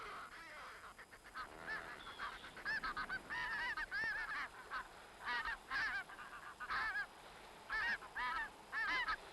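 Greylag geese honking on North Uist, a flock giving repeated, overlapping nasal honks at a moderate distance over a steady outdoor background hiss.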